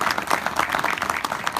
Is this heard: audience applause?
yes